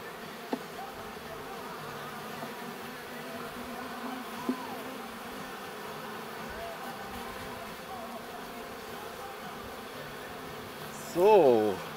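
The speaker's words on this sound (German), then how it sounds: "Die Bienen werden da noch mal gleich reingeschüttet." Honey bees hum in a low, steady drone while a beekeeper rears queens by the Miller method, setting up a collected brood nucleus. The buzzing is fairly quiet and constant, with a brief louder, wavering buzz near the end.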